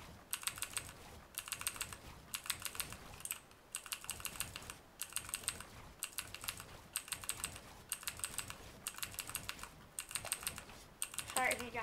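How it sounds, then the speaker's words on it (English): Rapid clacky typing on a mechanical keyboard in bursts with brief pauses, close and fairly crisp, no voices. "Sorry if you guys can hear my keyboard. My keyboard's mechanical."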